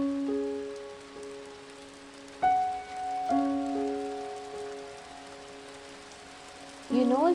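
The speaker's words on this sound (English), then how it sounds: "it's raining again here in Mumbai" Monsoon rain falls in Mumbai as a soft, steady hiss, with sustained tonal sounds that start and stop over it.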